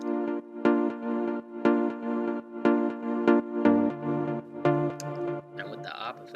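Dry Sylenth synth pluck for a deep house track, played without arpeggiator as short repeated chord stabs at a steady pulse, moderately loud and alone, with a bassier note change and a brief noisy swell at the end.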